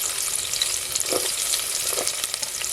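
Garlic and onion frying in a pan over a village wood-fired stove, a dense continuous sizzle up close with faint stirring scrapes.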